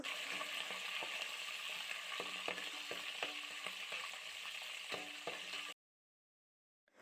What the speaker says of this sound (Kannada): ಈಗ ಹಸಿಮೆಣಸಿನ್ಕಾಯಿ ಹಾಕ್ಕೊಂಡು ಇದನ್ನು ಚೆನ್ನಾಗಿ ಫ್ರೈ ಮಾಡಬೇಕು.